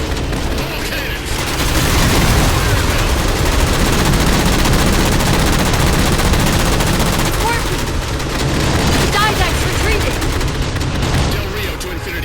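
Ship cannons in Halo 4 fire in heavy, rapid volleys, a dense continuous barrage of booms and gunfire with battle effects, loud and sustained throughout.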